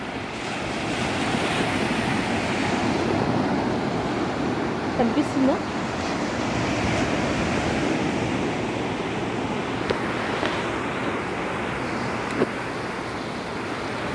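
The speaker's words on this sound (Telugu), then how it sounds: "ఇదైతే గోకర్ణ బీచ్ అండి, చూడండి ఎంత బాగున్నాయి, ఫ్రెష్గా వాటర్ ఇది" Surf rolls onto Gokarna Beach in a steady, close, broadband roar mixed with wind buffeting the microphone, while a voice briefly speaks over it.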